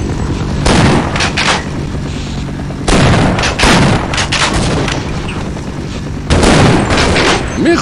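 Bursts of gunfire from the Half-Life video game come in three loud clusters of rapid shots with booming reports, separated by quieter gaps, with no talk over them.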